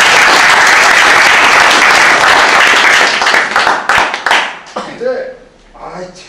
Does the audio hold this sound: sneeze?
no